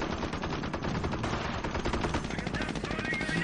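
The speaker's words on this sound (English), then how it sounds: "He's picking off guys with the MG" Machine gun fire in a competitive multiplayer video game match, a steady rattling burst that runs without pause from start to finish, loud and close over a dense battle din.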